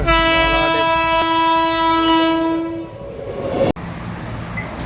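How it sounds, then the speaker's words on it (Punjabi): A train horn blares in a long, loud sustained tone as a train approaches, followed by heavy rumbling and rushing noise of the cars passing close by. "ਫਾੜ ਕੇ ਲੱਗਾ ਤੇ ਟ੍ਰੇਨ ਆ ਗਈ ਆ"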